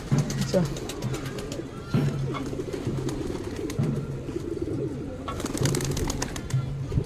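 Pigeons kept at home coo in low, repeated bursts at a steady rhythm, close and fairly loud, with sharp clicks and flutters between them and people talking in the background.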